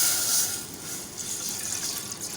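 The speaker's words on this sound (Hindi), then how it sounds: "उसमें हम पानी को ऐड कर देंगे" Water pours steadily into a cooking pot in a home kitchen while making tamarind chutney, a continuous close gushing splash with no talking.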